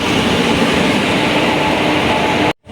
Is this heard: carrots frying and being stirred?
no